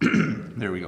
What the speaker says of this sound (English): I'm just going to clear my throat for a sec.